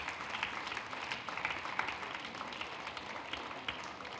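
Scattered, faint clapping from an audience at a spiritual talk and entertainment gathering, a few people applauding briefly and unevenly at a distance for a few seconds.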